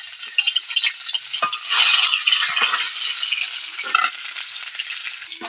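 Fish fries in hot oil in a kadai, a close, steady hiss and crackle that swells briefly as pieces are turned or stirred, with occasional light scraping and no talking.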